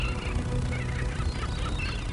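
Flamingos calling at a lagoon, a flock giving repeated nasal honking calls over a dense, continuous bed of bird noise.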